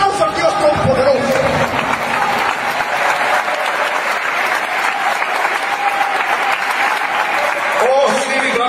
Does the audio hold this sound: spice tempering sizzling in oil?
no